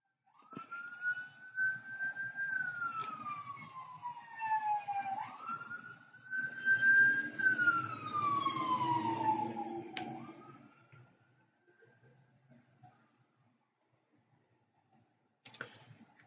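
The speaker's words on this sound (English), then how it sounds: "I'll wait till the ambulance pass." An ambulance siren wails past, its rising and falling tones sliding down in pitch as it recedes, loud for about ten seconds then fading away into near silence.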